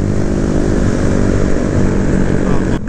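A big motorcycle roaring close by during a group ride, a loud, continuous engine drone that cuts off abruptly just before the end.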